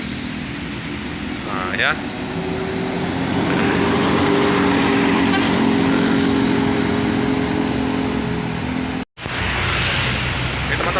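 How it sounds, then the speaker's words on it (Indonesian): A Rosalia Indah bus passing on the road: a broad engine and tyre roar swells and holds close by for several seconds amid traffic noise, with a person speaking briefly near the start. "Nah ini bus Rosalia Indah."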